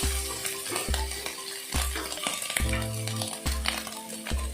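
Cooked rice is stirred and tossed in a frying pan, with rhythmic scraping strokes of a utensil against the pan about once a second over a soft sizzle.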